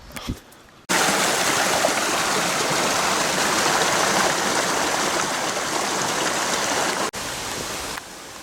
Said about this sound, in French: On passe un pont avec le torrent et après à droite.